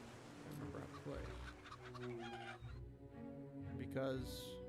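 Chickens cluck in the chicken-kicking game of Fable Anniversary, several short clucks and squawks over game background sound, with a louder squawk near the end.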